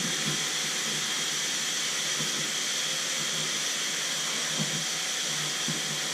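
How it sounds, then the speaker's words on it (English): A garage shop vacuum sucks insulation fluff out of a hole during a range hood install, giving a continuous airy hiss and whoosh at moderate level with faint bumps as the nozzle moves. "to do that I'm going to be using the garage vac,"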